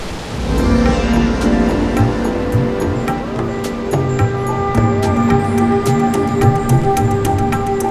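Constant rushing of falling water in a mountain forest near the Hungduan rice terraces, Ifugao, with faint bird chirps and scattered clicks over a low steady roar.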